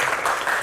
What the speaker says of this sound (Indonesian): Kita tepuk tangan bersama dong untuk dua rekan kita